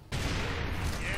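A grenade goes off in Gears of War: after a brief quiet moment a sudden loud, close blast breaks into a dense, roaring rumble that fills the rest of the short moment.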